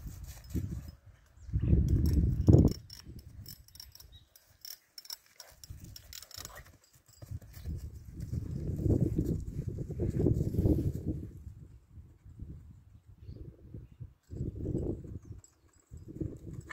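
Horse hooves clip-clop in irregular bursts at moderate distance, with quieter pauses between groups of steps.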